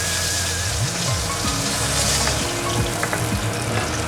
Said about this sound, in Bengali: আমি বাকি মাছটাও এইভাবে ভেজে নেব।